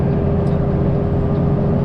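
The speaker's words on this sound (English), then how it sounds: "you can hear the fan coming on" A steady, loud mechanical whir of a flatbed truck's engine radiator fan kicking on to bring down high water temperature, alongside an idling engine hum, constant throughout with no talking.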